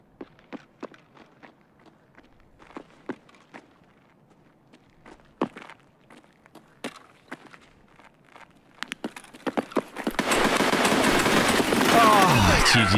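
Gunfire in the video game Escape from Tarkov: after scattered soft footsteps and knocks, a sudden loud, dense burst of shots erupts near the end and roars on without a break.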